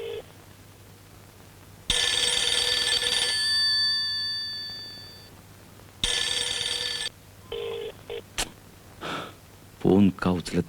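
A telephone rings unanswered indoors at night, two loud bursts of bright electronic ringing separated by a pause, followed by gasps and short vocal sounds.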